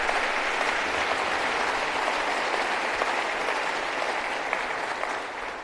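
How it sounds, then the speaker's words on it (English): An audience applauds, a dense and even patter of many hands clapping at moderate distance that holds steady and then fades slightly at the end. "there's a clap I thought I heard for that"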